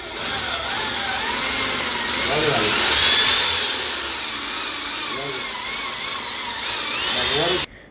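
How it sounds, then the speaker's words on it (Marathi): A steady, high-pitched electric drill whine runs continuously, rising and easing slightly in pitch, then cuts off abruptly near the end. "तिने पण छान म्हणजे पद्धतीने ड्रिल केलं"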